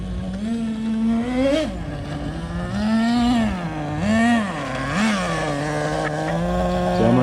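A Traxxas Nitro Slash RC car's small nitro engine buzzes at about half throttle during break-in, its pitch rising and falling repeatedly as the car is driven around a yard, moderately close with no talking.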